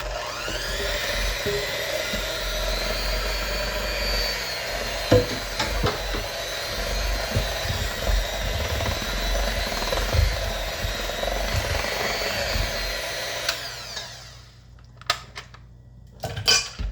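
An electric mixer beats melted hot cocoa mixture into dry cake ingredients for a cocoa sheet cake, a loud steady whirring with occasional beater clatter against the bowl, then cutting off near the end with a few clanks.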